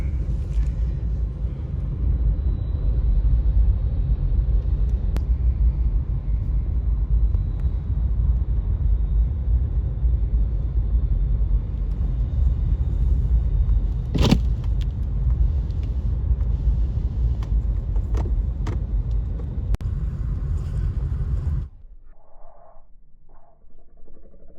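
A car rumbles steadily along a snowy road during a heavy snowstorm, the low road and engine roar filling most of the stretch with a few faint knocks. Near the end the noise suddenly drops away to quiet.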